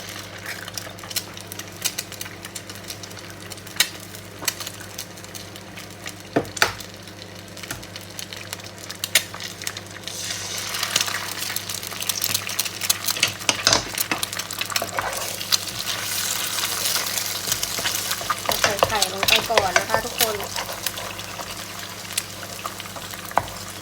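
Eggs fry in an oiled pan for pad see ew with a steady crackling sizzle, occasionally joined by clinks and scrapes of a utensil.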